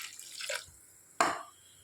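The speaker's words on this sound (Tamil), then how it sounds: "இப்போ இது வேகிற அளவுக்கு தண்ணி ஊற்றி விட்ருவோம்" Water is poured into radish curry (mullangi kootu) cooking in a pan, heard as two short splashing pours separated by a pause, close and moderately loud, with no voices.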